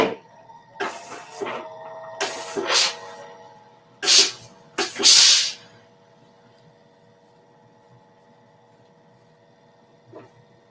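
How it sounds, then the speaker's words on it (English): A steam iron fitted with an iron shoe presses a sewn collar placket, giving several short loud bursts of steam hiss separated by pauses, then fading to a quiet steady hum with one faint final puff. "What I'm going to do is press this collar or the placket."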